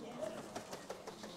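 Birds, many of them pigeons or doves, at a grand picnic ground, giving soft repeated coos and short calls at irregular intervals, close and fairly quiet, with someone talking over them.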